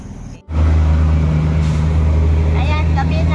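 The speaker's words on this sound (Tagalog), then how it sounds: "Ang ingay talaga sa kalsada. Ang dami sasakyan." Busy road at night with many vehicles passing, a loud continuous low engine rumble and hum close by after a brief drop, with a voice speaking over it.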